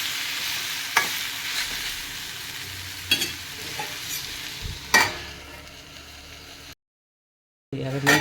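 Tender moringa leaves being stirred in a pan as they cook, giving a steady sizzle and scraping with a few sharper spatula knocks, close and alone, before a brief silence.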